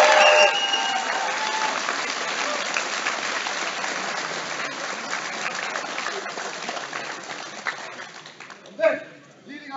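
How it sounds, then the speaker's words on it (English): An audience at the Dutch Lions Cup 2017 finals gives a sustained round of applause for the judging team, a dense wash of clapping that fades slowly before a brief louder burst near the end. "another big round of applause for people judging you all day"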